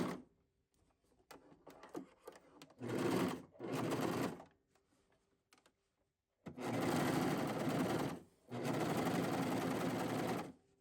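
A serger stitches over a zipper coil in two short bursts, then runs in two long, steady, loud whirring passes with brief pauses between them.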